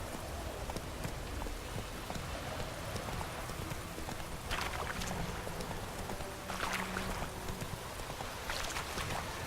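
Video game rain in The Witcher 3: steady pattering with scattered heavier drops and brief splashy bursts, an even wash of noise at low level with no voices.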